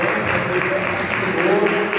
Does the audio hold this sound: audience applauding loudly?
yes